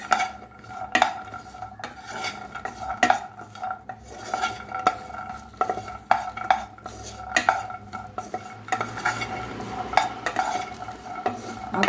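Sago pearls are roasted in a pan while a utensil scrapes and stirs in a brisk, repeated clatter, close by. A faint sizzle sits underneath and no one talks.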